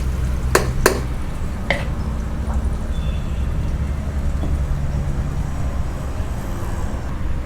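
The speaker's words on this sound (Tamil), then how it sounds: "வெங்காயம் சேர்த்துட்டு நல்லா வதக்கிக்கலாம்." Onions sauté in oil in a pan for chicken leg fry, a soft continuous sizzle broken by a few sharp scrapes or clacks of a utensil early on, no talk.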